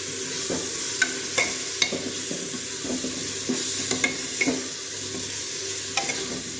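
Aloo matar sabzi of potatoes and peas being stirred and fried in a pan, with a loud, continuous sizzle and repeated scraping strokes and clinks of the spoon against the pan.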